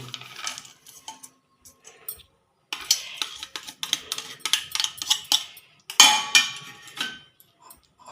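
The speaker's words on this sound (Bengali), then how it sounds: "এটা আমি এখন শিলে বেটে নেব" Peanut pieces, fennel, white sesame and black mustard seeds crushed on a stone slab with a grinding stone, giving irregular scraping, gritty clicks and knocks in short bursts, close and fairly quiet, with no talk.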